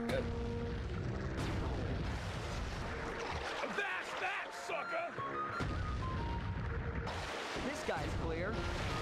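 A ship explodes during a naval battle in the Sly 3 video game, with booming blasts and cannon-like fire amid ocean and engine game sounds, while people talk over the action.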